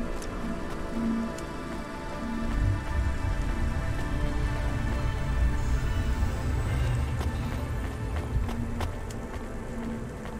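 Rainfall in the video game Cloudpunk makes a steady, dense patter over a low, droning city ambience that holds constant throughout.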